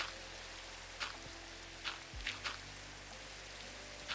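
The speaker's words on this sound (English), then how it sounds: "It's raining, hooray! No thunderstorm though, right?" Steady hiss of rain falling in Minecraft, continuous and moderately loud, with faint low in-game tones and a few soft thuds over it.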